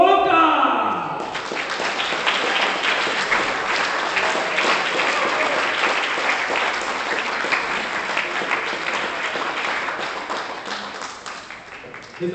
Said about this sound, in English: Everybody, round of applause for Wonka!